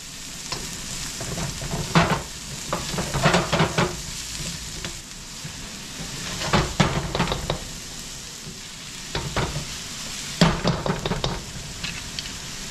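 Chopped garlic and onion sizzle in a hot pan, bursts of frying rising and falling as they are stirred, close and fairly loud with no talking.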